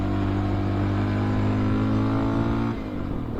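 A Honda XR650L dual sport motorcycle accelerates with a loud, steady single-cylinder engine roar that holds its pitch, then eases off near the end.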